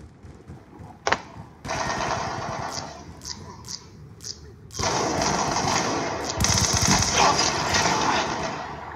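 Gunfire in the video game Black Ops 2 custom match, bursts of rapid automatic shots with sharp single cracks, loud and dense, alternating with brief quieter gaps.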